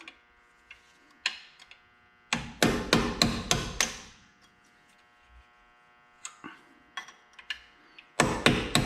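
Caliper pins on the front brakes of a 2011 Camaro SS are driven out with sharp, close hammer strikes that come in quick bursts of four or five blows, separated by quieter single taps and pauses.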